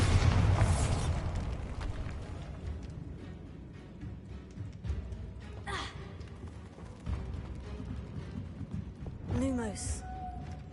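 A Bombarda spell explodes in the video game Hogwarts Legacy. The loud boom comes first and decays into a rumbling tail, followed by fainter game effects and a brief voice.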